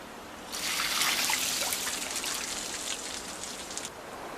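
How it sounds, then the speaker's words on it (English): Water doused over specially built wooden racks in freezing wilderness to grow ice: a sudden splashing, trickling spray starts abruptly, pours steadily for about three and a half seconds, then stops. "ice farmers repeatedly douse specially designed wood racks with water"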